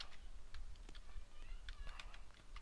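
Fingers typing on a computer keyboard, a quick irregular run of faint, close clicks and taps that is quiet throughout.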